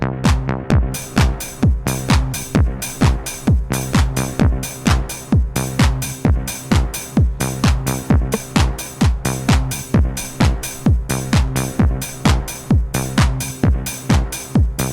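A looping drum machine beat with a fast, crisp hi-hat pattern ticking over kick and tonal hits, steady and quantized, with no voices.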